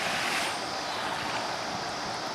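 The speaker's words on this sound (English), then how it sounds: "So it's not a huge water feature. It makes a nice sound," A small, gentle water feature at a backyard pool in Fort Worth, Texas, splashing steadily; a continuous, even wash of falling water, fairly close and alone, with no voices.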